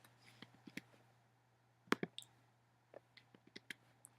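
Computer mouse clicks come in scattered bursts, single and double, crisp and close, with short quiet gaps and a faint steady hum underneath.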